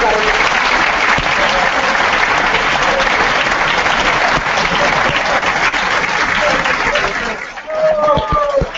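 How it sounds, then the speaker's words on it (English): A hall full of delegates at a general assembly closing in Bucharest gives a loud, sustained round of applause that fades near the end, where a voice begins speaking. "I would like to have a round of applause for them, a big one."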